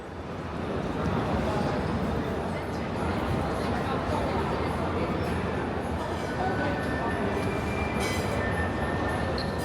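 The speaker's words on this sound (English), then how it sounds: "We then took the metro over to Kwun Tong" A Hong Kong metro train runs with a steady, loud, close rumble that fills the whole stretch, with faint crowd babble mixed underneath.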